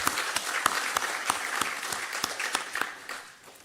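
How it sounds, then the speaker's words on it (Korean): A church congregation claps together at an anniversary worship service, a fairly close, even round of applause with distinct individual claps standing out, tapering slightly at the end. "우리 하나님께 영광의 박수 한번 올리겠습니다"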